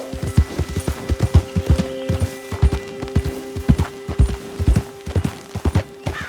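A horse's hooves clip-clop at a steady walking rhythm in the Red Dead Redemption 2 video game, close and distinct, with a carcass slung on its back and a faint tonal hum underneath.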